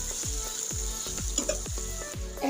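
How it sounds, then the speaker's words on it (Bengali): Chicken feet masala sizzles in a pan after a little water is added. A loud continuous sizzle carries a regular run of stirring scrapes and clinks, close and with no voices. "আমি অল্প করে একটু কষানোর পানি দিলাম।"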